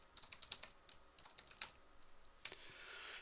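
Rapid, irregular clicks of a computer keyboard as code is typed, close and crisp with short pauses between bursts, ending in a brief run of steady hiss.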